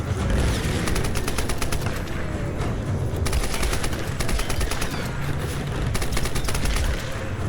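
Sustained rapid gunfire from the 2013 Tomb Raider video game, dense bursts of automatic shots rattling continuously with brief pauses, loud and close.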